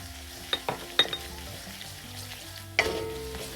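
Two tablespoons of spicy chili powder roast in hot oil over a low flame, with a faint steady sizzle and a few sharp spoon clicks against the pan, one louder knock near the end.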